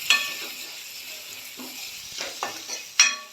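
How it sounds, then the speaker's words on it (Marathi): Chopped onion sizzling in hot tempering oil in a pan while being stirred, a soft steady frying hiss broken by several scraping strokes of the spoon, close and fairly quiet. "फोडणीमध्ये कांदा घालून घेते आहे."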